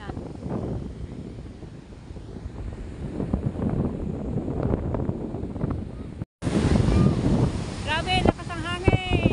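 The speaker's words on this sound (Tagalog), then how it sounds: "Grabe, lakas ang hangin" Strong wind buffets the microphone in a continuous rushing roar near a river and the sea, with gusts swelling and a voice shouting briefly over it near the end.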